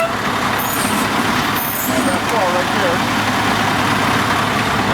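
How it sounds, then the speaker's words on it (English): Heavy truck idling with a deep engine drone as it creeps forward or back after the parking brake is released, with short hissing bursts and someone talking over it. "take off my parking brake, and I'm going to move the truck either forward or back about 12 inches"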